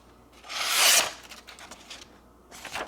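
A freshly sharpened Benchmade Mini Bugout knife slices through a sheet of paper with a bright, hissing rasp lasting about half a second, followed by softer rustling and a second short papery swipe near the end.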